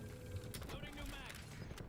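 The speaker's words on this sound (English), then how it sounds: "Loading new mag." A new magazine is loaded in Warzone with a short run of quiet, close mechanical clicks, creaks and ratcheting metal handling, faint and brief.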